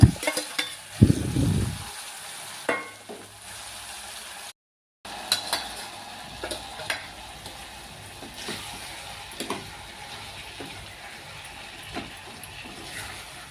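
Tomatoes frying in a pan for a curry served with chapati, a soft continuous sizzle with intermittent spatula knocks and stirring scrapes, preceded by a loud clatter and a brief dropout.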